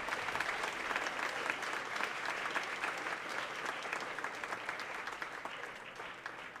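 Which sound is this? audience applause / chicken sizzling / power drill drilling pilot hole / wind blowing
audience applause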